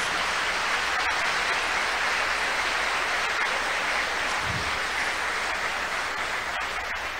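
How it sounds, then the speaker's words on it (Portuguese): Church congregation during a celebration service applauding together, a continuous dense wash of clapping at moderate volume, with a brief low thump partway through and no speech. "Pode aplaudir o Senhor, então"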